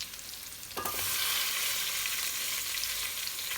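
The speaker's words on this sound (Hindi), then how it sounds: "आलू भी फ्राई हो रहे हैं" Potatoes fry with black pepper and cumin in a pan, a quiet start giving way to a loud, steady sizzling hiss after a brief stirring scrape.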